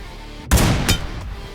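Gunfire from a BGMI (PUBG Mobile) match: two sharp, loud broadband bursts about a third of a second apart, then a faint trailing rumble, with no talk.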